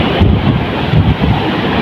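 Strong waves pound the shore near an open market during Typhoon Basyang, a loud continuous roar of surf mixed with heavy wind buffeting the microphone, with no voices.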